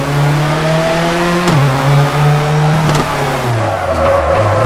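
Loud rally car engine in a WRC video game drops pitch through a handbrake turn, with tyre skid noise and revving running continuously throughout.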